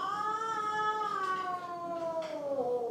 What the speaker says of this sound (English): We're cat sitting right now